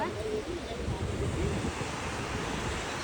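Mountain river water rushing steadily on the way toward Gangotri, a broad continuous wash with wind buffeting the microphone as people wade in.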